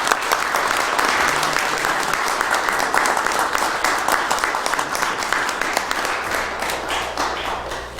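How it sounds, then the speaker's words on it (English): Audience members at a township committee meeting applaud an Eagle Scout called up to the front, a full, continuous round of clapping from many people, loud and steady before tapering slightly toward the end. "I would certainly think we need a round of applause"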